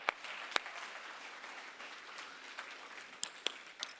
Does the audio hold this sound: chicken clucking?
no